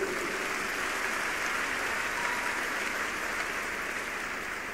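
A church congregation claps steadily throughout a revival service, a dense, continuous wash of hands with no pauses, fairly loud and without speech over it.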